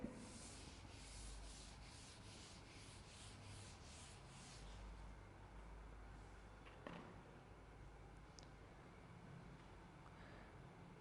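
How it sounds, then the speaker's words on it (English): A classroom board being rubbed clean with an eraser, a soft rhythmic scrubbing of even back-and-forth strokes that fades, followed by a few faint knocks. "So, I am going to rub the board now."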